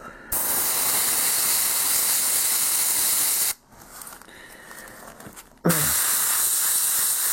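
Backpack sprayer spraying, a loud steady hiss that cuts out briefly, leaving a quieter rushing sound, then bursts back on at full strength.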